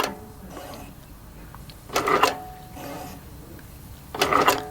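Handi Quilter Moxie quilting machine stitching tie-offs, heard as bursts of rapid needle stitching that start and stop, with two louder runs separated by quieter pauses, close up and with no talking.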